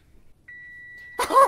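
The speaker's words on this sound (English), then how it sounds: "I could still hear the beeping." A single steady electronic oven timer beep holds for under a second in a quiet room, then a short burst of noise cuts in.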